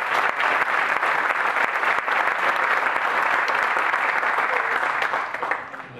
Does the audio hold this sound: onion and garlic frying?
no